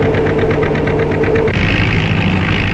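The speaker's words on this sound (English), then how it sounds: "The oil consumed in this engine produces heat, which in turn does work by plowing this soil." An oil-fuelled engine runs steadily while plowing soil, a loud continuous mechanical drone with a rhythmic knocking pulse and no pauses.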